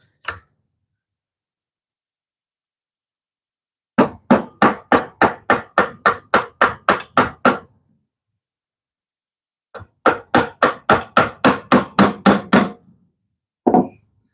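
A chisel struck in quick, even taps working ash wood for a Japanese knife, two close runs of a dozen or more sharp knocks each, plus a few single hits, with silence between.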